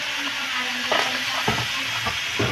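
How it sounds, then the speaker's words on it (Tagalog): Meat stirred in a hot pan, a continuous loud sizzle with several scraping strokes of the utensil spaced about half a second apart. "lagay pa ako ng aking mga karne dyan. At halu-haluin lang yan guys."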